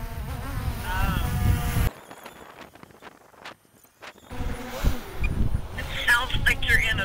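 A DJI Mavic Air 2 drone buzzes like a swarm of bees during a walk outdoors, its whine loud at first, fading out for a few seconds, then returning with footsteps and talking.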